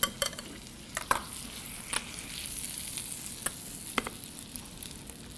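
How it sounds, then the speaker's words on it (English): Pancake batter sizzles in a buttered skillet with a steady, faint frying hiss, broken by a few light clicks and taps of a utensil against the pan. No one speaks. "You add that to your skillet, swirl it all around, and then add the batter to the pan."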